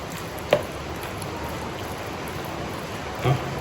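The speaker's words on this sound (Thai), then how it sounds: "ฝนตกอีกแล้ว" Rain falls outdoors in a steady soft hiss, with two brief louder knocks early and near the end of the stretch, and no one speaks.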